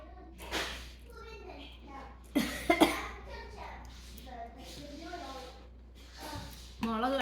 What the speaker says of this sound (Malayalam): കുറച്ച് ചുമ തന്നെ